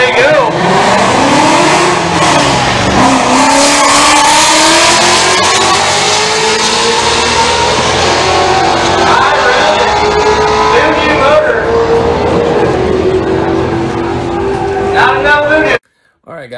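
Muscle cars roll racing on a track at a street car takeover, engines roaring loud and close as they accelerate hard with rising revs, one car pulling away ahead of the other, while people talk over the noise.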